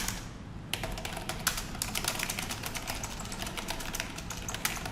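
Steady, rapid typing on a computer keyboard while writing filler text for a Python GUI program, with a dense close clatter of keystrokes running throughout and no talk.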